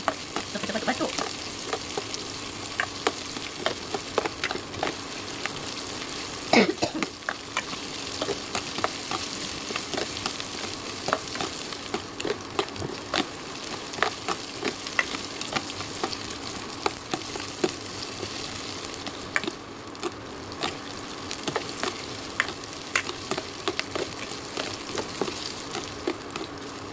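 Red onions and sliced bird's eye chillies frying in hot oil, a continuous loud sizzle with frequent scraping and stirring clatter throughout.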